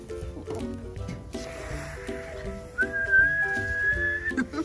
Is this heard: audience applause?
no